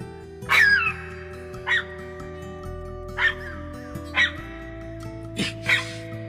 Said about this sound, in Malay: anjing di rumah jiran sebelah masih lagi bising